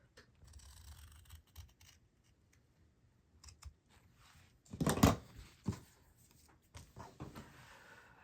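Scissors snip around a fabric turkey appliqué on a flour sack tea towel, giving a string of faint close cuts with short gaps and one louder burst of snipping near the middle.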